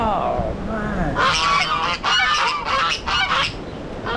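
A flock of geese in a pen honk loudly and repeatedly close by, a raucous overlapping racket with a voice briefly audible early on.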